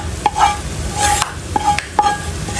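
Toasted garlic stirred into peanuts frying in a pan, with repeated scraping stir strokes and light clinks over a soft, steady sizzle, close and fairly loud.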